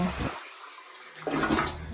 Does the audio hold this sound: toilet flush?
yes